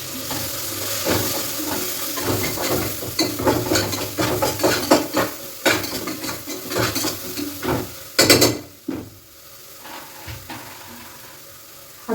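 Spices for rice bath frying in a pan, a close steady sizzle with repeated metallic scrapes and knocks of stirring, busy at first, then quieter toward the end.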